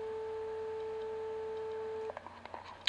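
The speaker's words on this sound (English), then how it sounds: "a simple sine wave looks like this. We can listen to that note" A steady pure sine wave tone holds evenly for about two seconds, then cuts off, followed by a few faint clicks and rustles.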